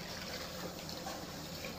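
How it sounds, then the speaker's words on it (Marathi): Running water rinsing out a cooking pot in a home kitchen, a steady, close, even rush and splash that holds unbroken through the short moment. "आता हे भांडं धुवून टाकूया थोडंसं।"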